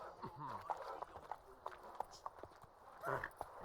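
Roach, the horse in The Witcher 3, clip-clops along in a quick, uneven hoof rhythm, the hoofbeats fairly faint with a few brief vocal grunts and exclamations mixed in.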